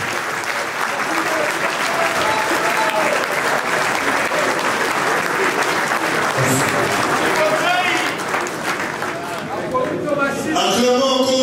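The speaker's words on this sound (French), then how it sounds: "Acclamons encore une fois, s'il vous plaît." Sustained applause and cheering from an audience at a political gathering in Grande Province Orientale, dense and steady clapping filling the whole stretch, with crowd voices mixed in.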